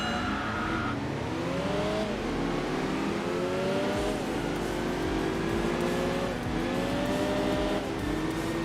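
A Nismo-tuned Nissan Skyline race car in Enthusia Professional Racing revs hard and loud, the engine note climbing through repeated gear changes in a steady rising-and-dropping pattern, with other cars droning close around it.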